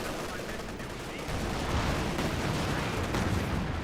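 Gunfire aimed at a Panzer IV tank in the video game Company of Heroes 2, a dense, continuous rattle of shots and blasts that grows louder partway through, with no clear talking over it.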